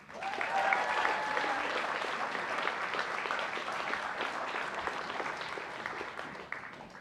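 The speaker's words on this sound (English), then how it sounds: "Let's give another round of applause to the recipients of individual academic achievement awards" Steady applause from an audience at a college honors convocation for academic award recipients, moderately distant, continuous clapping that tapers slightly near the end.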